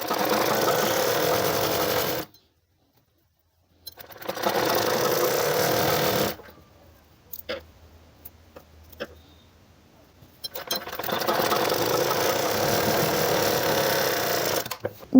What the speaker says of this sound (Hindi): नीचे से सिलाई करते हुए हमने यहाँ ऊपर तक अपनी सिलाई को कंप्लीट करना है